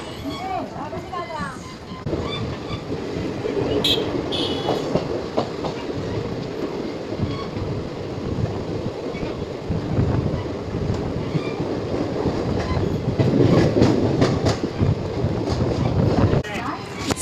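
The Pinakini Superfast Express rumbles steadily along the rails with rattling clicks and wind buffeting, arriving at Naidupeta railway station, while a person talks over the noise.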